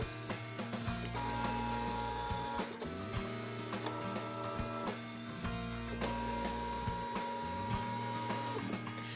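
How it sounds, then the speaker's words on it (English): A ScanNCut fabric cutter draws a seam allowance with its pen tool, giving a steady mechanical whir of stepper motors with shifting tones and small clicks as the head changes direction, running continuously and fairly quiet. "I'm going to hit start, and it's going to draw that seam allowance for me."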